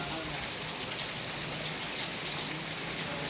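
Heavy monsoon rain in the Konkan region pours down steadily, a thick, constant hiss of drops with no break and no voices.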